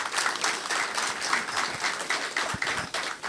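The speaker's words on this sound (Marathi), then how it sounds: "सगळ्यांनी मनापासून जोरदार टाळ्या वाजवाव्यात" An indoor audience at a talk applauds steadily and fairly close, a dense, even wash of many hands clapping throughout.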